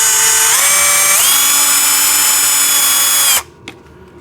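A power tool undoing a bolt on a JCB ride-on toy tractor excavator, a loud close continuous motor whine that shifts pitch twice, then cuts off into quiet with a small click.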